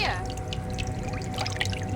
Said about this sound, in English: go towards the door that triggers this water splashing sound